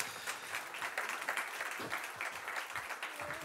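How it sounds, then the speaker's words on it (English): Steady, moderately loud applause from an audience, a continuous wash of many hands clapping without a break. "Big round of applause."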